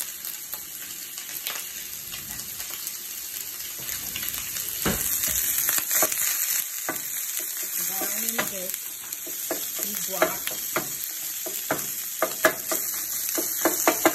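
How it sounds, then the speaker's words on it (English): Potatoes, bratwurst and green and yellow peppers sizzle in an IKEA grill pan. A loud, constant hiss of frying fills the background while irregular spatula scrapes and clacks grow busier over time, with no voices. "potatoes with some brats and some green and yellow peppers and some of these already cut up potatoes from Walmart."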